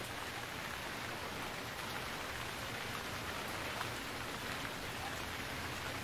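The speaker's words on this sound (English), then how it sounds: "Oh, and now it's raining." Steady rain in the video game Stranded Deep pours down in a dense, even hiss that runs without a break from start to finish, with no voices.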